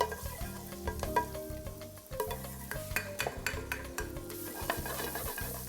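Minced garlic sizzles and crackles steadily in hot olive oil in a pan, with frequent scraping and clinking of a utensil stirring against the pan over the continuous fry.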